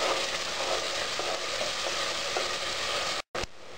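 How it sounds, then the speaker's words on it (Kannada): Ground masala for Donne biryani frying in a pan, a steady close crackling sizzle that cuts out for a moment near the end and then resumes. "ಇದು ಮಸಾಲೆ ಫ್ರೈ ಆಗಿದೆ."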